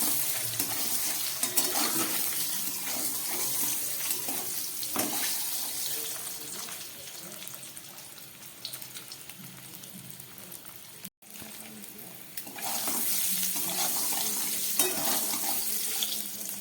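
Boiled eggs fry in oil with turmeric and salt, sizzling steadily with bursts of spatula stirring and scraping up close. A momentary dropout breaks the sound before the sizzle resumes.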